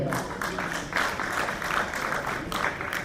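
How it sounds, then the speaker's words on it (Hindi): An audience claps at a school convocation event, welcoming a guest to the stage with a steady wash of applause that stays loud and constant throughout. "भरपूर तालियों के साथ मीरा जी का इस्तकबाल किया जाए।"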